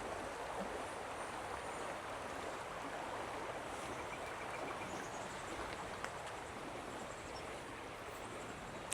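The Credit River flows in a steady, soft rushing wash, winding through wooded property, heard faint and distant throughout with no talk.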